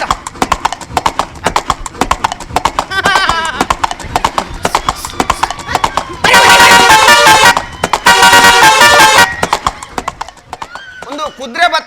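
Horse hooves clip-clop in a steady rhythm on a comedy stage, loud and close, broken by two bursts of a car horn and some shouting voices, with the hoofbeats returning near the end.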